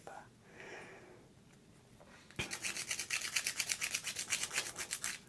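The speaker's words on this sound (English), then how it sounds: "I'll use an emery board. And these are really coarse," A coarse emery board files fingernails up close with rapid, rhythmic rasping strokes, starting after a soft-spoken voice and a quiet lead-in.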